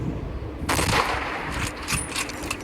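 Gunfire from a sniper rifle shooting a fast, powerful animal in the hunting game Hunting Sniper, a sharp shot cracking in and then a dense, echoing burst of rapid firing rolling on for about two seconds.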